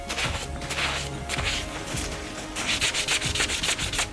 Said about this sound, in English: Start to rub the cleaner into the metal using the cloth or sponge provided.